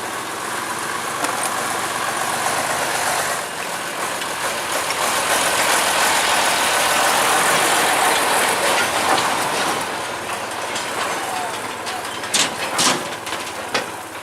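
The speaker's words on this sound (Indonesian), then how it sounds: "lokomotif yang di depan, lokomotif D15 tampak berbelok ke kanan." A D15 locomotive hauling a train along a sugar mill railway, a sustained rumbling roar with metallic squeals and a few sharp clanks of rolling stock near the end, no speech.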